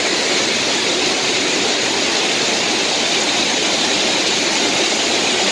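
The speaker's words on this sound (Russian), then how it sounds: "Такой водопад. Шум прям такой красивый." A large waterfall near Dalat, Vietnam roars in a constant, loud, broadband wash of falling water that fills the entire stretch without pause or voices.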